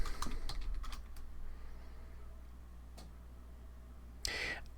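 Fingers tap a Linux terminal command on a computer keyboard: a quick burst of close keystrokes at the start, a few scattered taps, a pause, then a single louder key press near the end over quiet room hum.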